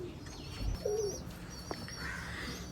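Teddy pigeons coo softly in a loft, with a couple of low warbling coos and faint chirps against quiet background noise.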